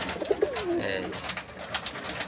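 A male pigeon coos in short, repeated low calls close to a female, heard up close over a busy background of other birds and faint ambient noise.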